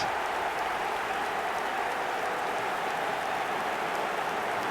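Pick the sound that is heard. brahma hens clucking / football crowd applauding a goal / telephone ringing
football crowd applauding a goal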